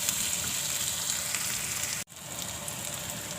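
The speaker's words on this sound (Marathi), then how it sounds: "आता चांगला परतून घेते, भाजून घेते." Masala with kokum sautéing in a pan for a spicy clam curry, a steady close hiss of frying that drops out briefly near the middle and then resumes.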